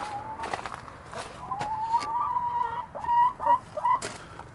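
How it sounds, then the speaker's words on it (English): Chickens in a coop give soft, warbling clucks and short rising calls, several birds close by, with a few louder bursts near the end and faint rustling underneath. "These are the chickens."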